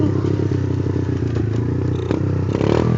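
A motorcycle with no working brakes held up in a wheelie, its engine roaring loud and close with continuous rough clatter and rattling throughout, no speech.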